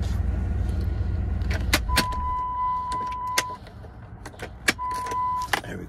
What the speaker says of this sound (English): Let's cut the lights off right quick. And shut it down.